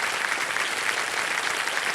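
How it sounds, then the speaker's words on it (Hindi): Studio audience on the KBC game show bursts into steady, dense applause, a continuous wash of many hands clapping at even loudness throughout, with no voices over it. "जोरदार तालियां बज जाएं दिव्या जी के लिए।"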